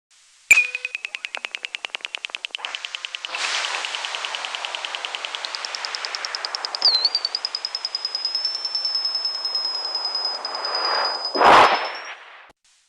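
A particle accelerator sonification: a rapid train of sharp clicks, then a steady hiss with a thin high tone gliding upward and holding, ending in a brief noisy burst.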